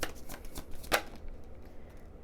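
Tarot cards shuffled and pulled by hand: several quick papery riffles with one sharp louder snap partway through, then a quieter stretch, close up with no talking.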